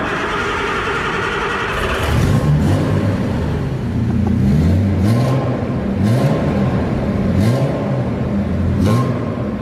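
An original Prince Skyline's engine cranks and catches, then settles into a steady, lumpy idle with repeated throttle blips revving it up, heard close by and alone.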